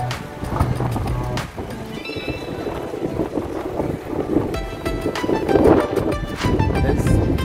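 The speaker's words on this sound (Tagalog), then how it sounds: "Lakas ang hangin." Strong wind in Athens buffets the microphone in steady, loud gusts, with a rumbling low roar throughout and no talking.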